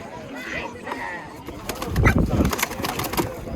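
Pigeons coo softly in a brief burst at a poultry and livestock market, with fluttering and clatter nearby and faint background voices.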